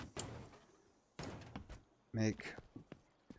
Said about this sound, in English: Remember to always close the doors on all the cars.